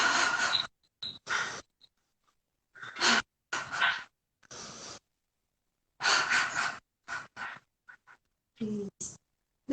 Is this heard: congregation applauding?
no